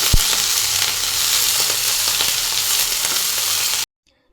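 Cluster beans (guar) fry in oil over medium heat for a Maharashtrian gawar bhaji, making a loud, dense sizzle with occasional stirring clicks, close up, before it cuts off abruptly near the end.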